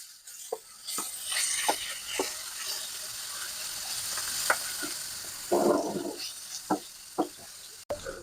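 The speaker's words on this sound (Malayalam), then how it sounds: "ആ ചട്ടിയിലേക്ക് ഞാൻ ഈ സവാള കൂടി ഇട്ടിട്ടുണ്ട് കേട്ടോ. ഇതിനൊന്ന് ഫ്രൈ ചെയ്തെടുക്കാം കേട്ടോ." Sliced onions frying in oil in a pan for a prawn biryani, a low steady sizzle broken by sharp clicks and scrapes of a spoon stirring against the pan, close by with no talk.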